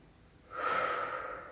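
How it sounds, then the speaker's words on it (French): A single slow breath during a Pilates stretch on a mat, drawn in through the nose and let out through the mouth, close and soft with a gentle airy hiss, and no talking. "Et j'inspire par le nez et j'expire par la bouche."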